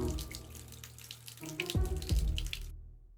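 Liquid accelerant pouring from a tank tap in the Deponia Doomsday video game, a steady splashing stream like a running faucet with a couple of deep gurgling drops, ending abruptly.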